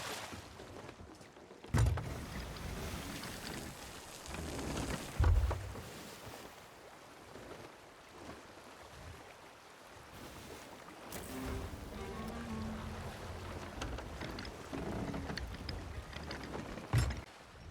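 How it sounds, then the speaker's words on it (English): Sailing ship at sea in the pirate game Sea of Thieves, with a steady wash of waves and creaking hull under a few dull thumps, with no talking. "I took the wheel to redeem myself and sailed to a safer location."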